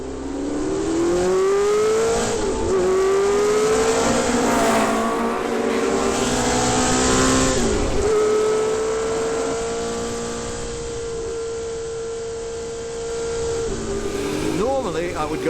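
A 1971 Porsche 908/3 race car accelerates hard on a racing circuit, its loud engine whine rising and dropping through gear changes, with continuous close rumble throughout.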